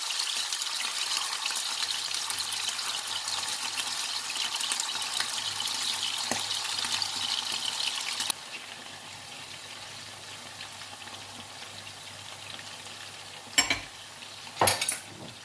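Meatballs fry in hot oil in a pan, a steady, close sizzle that drops a notch partway through, followed near the end by a couple of brief clinks of a utensil against the pan.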